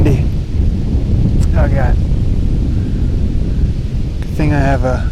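Strong wind buffets an outdoor microphone in a steady, loud rumble that runs the whole time, with a voice breaking in briefly near the start and again near the end.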